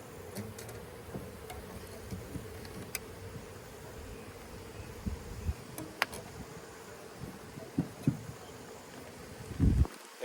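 A faint, steady buzz of honeybees hangs in the air outdoors as a swarm is shaken from a cut section of power pole into a box, with scattered rustles and knocks close by and no talking.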